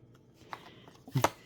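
A deck of tarot cards is shuffled close by, with soft rustling that ends in a brief burst of quick riffles near the end.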